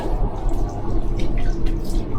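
Water running steadily from a tap in a train toilet on a Northern Trains service along the Tyne Valley Line, a continuous close splashing hiss with no talk.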